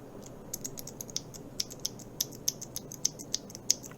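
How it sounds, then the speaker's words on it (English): A Keychron K4 keyboard with optical red switches and no O-rings clacks as keys bottom out. Quiet, sharp clicks come at an irregular typing rhythm over a low background hiss. "You hear that clack, clack, clack sound that's made by bottoming out."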